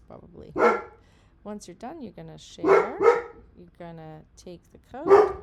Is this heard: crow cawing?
no